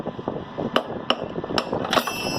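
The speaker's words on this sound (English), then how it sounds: "I just take this big hammer and I just tap on either side of the flywheel until it pops loose" A large hammer taps on either side of the flywheel of a Husqvarna push mower with a Briggs 725EXi engine, producing four sharp metallic strikes spread over a couple of seconds against a steady background hum.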